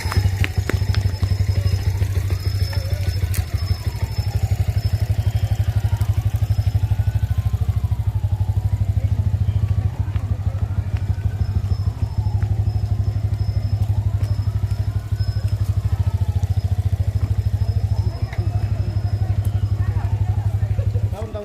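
A motorcycle engine runs continuously with a low, steady drone for a long stretch, close and fairly loud, while people talk over it throughout.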